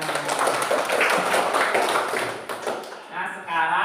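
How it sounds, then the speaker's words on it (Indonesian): A classroom of pupils claps together for everyone, a dense, steady patter of many hands that fades toward the end, with voices mixed in. "Tepuk tangan untuk semuanya."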